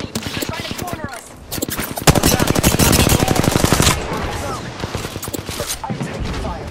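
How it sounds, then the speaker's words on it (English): Rapid video game gunfire rattles in dense automatic bursts, loudest in a sustained volley around the middle, with intermittent shots before and after. "I'm taking fire!"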